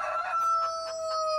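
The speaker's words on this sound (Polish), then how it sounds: "Kogut sąsiada." A rooster in the game Farming Simulator 19 crows once, a long, close and clear cock-a-doodle-doo with a tonal, slightly synthetic quality.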